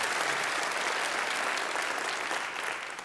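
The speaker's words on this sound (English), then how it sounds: "Can we just give it a massive round of applause?" Large conference audience at a college association's annual conference and exhibition applauding, a dense, steady wash of clapping that holds loud and full for about three seconds before easing slightly at the end.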